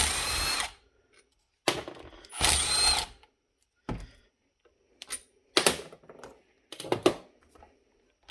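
Fittings are popped off the suction and compression sides of a York air compressor in a series of short, harsh mechanical bursts separated by near silence. The bursts are close and loud, some rattling briefly.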